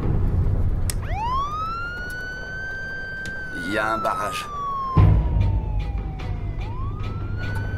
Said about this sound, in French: Enclenche la sirène.